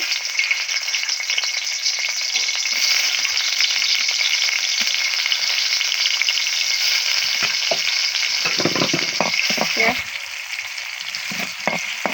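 Sliced onions fry in hot oil in a pan, a loud, dense, even sizzle that holds steady and close, with a few stirring scrapes and clinks toward the end and no voices.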